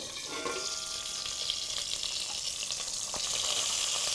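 Sausages for rougail saucisses fry in a pan with a steady, close hiss of sizzling fat and a few small pops, heard alone.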